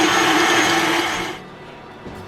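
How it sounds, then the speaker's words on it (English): A KitchenAid stand mixer whisks a thick pumpkin dessert layer, a steady close motor whir with a whisking rattle that drops off and quiets partway through. "But since I had my KitchenAid out, that's why I wanted to go ahead and whisk it this way."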